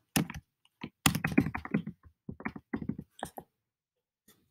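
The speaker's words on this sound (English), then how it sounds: "And then you type your question here." Typing on a computer keyboard to enter a question into a Zoom poll, with bursts of close, crisp keystrokes in uneven clusters separated by short pauses.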